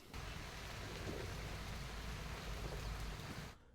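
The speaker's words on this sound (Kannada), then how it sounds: "ಇನ್ನು ತಲಕಾವೇರಿ ಮತ್ತು ಭಾಗಮಂಡಲ ವ್ಯಾಪ್ತಿಯಲ್ಲಿ ಕೂಡ ಭಾರಿ ಮಳೆಯಾಗ್ತಾ ಇದೆ" Heavy monsoon rain falls over the Talakaveri and Bhagamandala area of Karnataka, a steady, dense wash of rain noise that holds at constant loudness for over three seconds with no voices.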